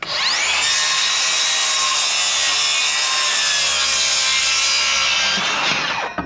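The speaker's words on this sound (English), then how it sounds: "There was a definite difference of sound in the amount of power and the force that saw had." A battery-powered circular saw rips through clamped wood in one sustained cut, loud and close, a bright whining buzz holding steady for about five seconds before spinning down.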